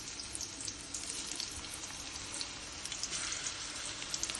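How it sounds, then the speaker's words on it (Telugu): Ridge gourd pieces fry in hot oil with a soft, steady hiss and light crackling spatter throughout, quiet and without voices. "వేడెక్కిన తర్వాత ఈ బీరకాయ ముక్కలు ఇట్లా అన్నీ వేసేసుకోవచ్చండి."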